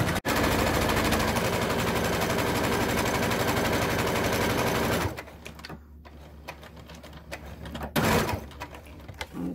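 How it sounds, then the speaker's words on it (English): A sewing machine stitches down the edge of a fabric face mask, a rapid loud mechanical chatter for about five seconds, then stops, followed by quieter handling clicks and a short burst of stitching. "we're going to sew all the way down, okay, this side here. We're gonna close up this edge"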